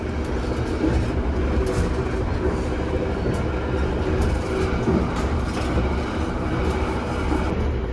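Inside the passenger cabin of the KA Taksaka express train at about 112-115 km/h, a steady low rumble and rushing drone carries on without a break, with faint rail clicks and no talking.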